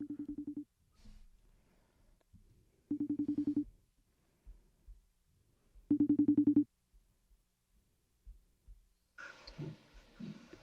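Three separate bursts of a buzzing telephone ring sound at regular intervals with silence between, followed by a brief noisy pickup at the end.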